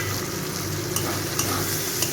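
Chopped onion and tomato frying in a pan for a gathi kochu shrimp dish, a continuous close sizzle with a few light clicks of stirring.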